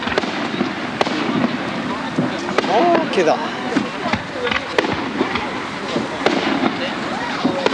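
Fireworks crackle and pop in scattered bursts amid crowd noise at a 1983 Michinoku folk performing arts festival in Kitakami, Japan, with a brief voice speaking partway through.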